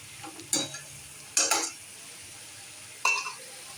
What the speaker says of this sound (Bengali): চিকেনগুলো এবার দিয়ে দিচ্ছি। মশলা কষানো হয়ে গেছে, চিকেনগুলোকে কষিয়ে নিতে হবে।